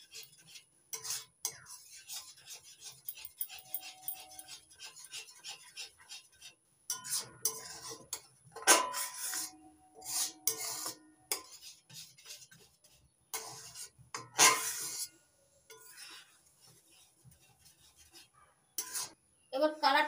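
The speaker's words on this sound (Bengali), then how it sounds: "ভালো করে মিশিয়ে নিচ্ছি গোলমরিচ গুঁড়ো।" A spoon stirring ground black pepper into a raw mango candy mixture, giving soft, quiet scrapes and light clinks in irregular bursts with pauses between them.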